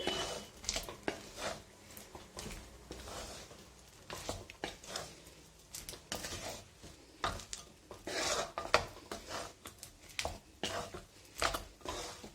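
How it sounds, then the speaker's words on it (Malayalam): A spoon scrapes and stirs peanuts through melted sugar in a pan, giving irregular gritty rasps and clinks, close and moderately quiet, with no talking. "കപ്പലണ്ടിയിലേക്ക് ഷുഗർ നന്നായിട്ട് മിക്സ് ആയി കഴിയുന്നത് വരെ ഇളക്കി കൊടുക്കണം"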